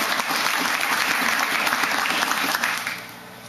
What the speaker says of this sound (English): You may applaud at this time